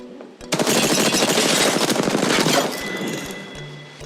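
Sustained automatic gunfire in the battle royale game Apex Legends, one loud rapid burst of roughly two seconds up close, then tapering shots and game sounds as it fades.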